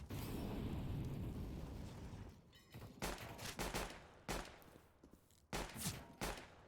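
Gunfire in a Counter-Strike match on the Nuke map: a dense burst of rifle fire gives way to several sharp separate shots in uneven clusters, loud and close, with no talking.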